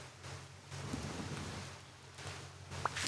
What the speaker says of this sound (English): Yay for rain. We love it.